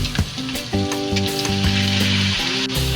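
Pork sparerib soup with glass noodles cooks in a pot after fish sauce is added, with a steady loud sizzle and bubbling. Faint clinks of stirring sound close by, and no talk is heard.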